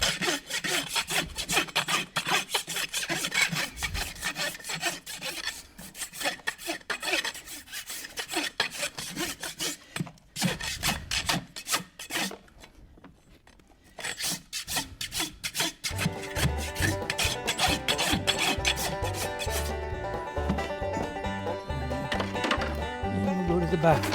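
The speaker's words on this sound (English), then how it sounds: "And then I'll take my clinching rasp and smooth everything up." A farrier works a clinching rasp across a horse's hoof, smoothing down the clinched horseshoe nails with steady rough scraping strokes in repeated rhythmic bursts, close and fairly loud, with brief pauses between passes.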